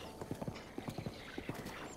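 Hooves clip-clop in a quick galloping rhythm from a horse in the video game Zelda: Breath of the Wild, fairly close and steady over a faint background hum.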